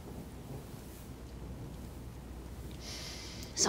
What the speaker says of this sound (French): On entend la pluie.